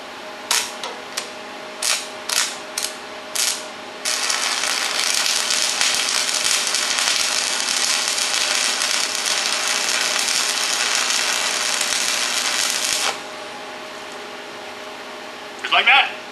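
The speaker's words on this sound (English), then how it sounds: "All you do to get it started is just scratch it or tap it" Arc welding with a stick electrode on metal: a few sharp taps and scratches to strike the arc, then a steady loud crackling sizzle for about nine seconds before it stops, with a brief noise at the end.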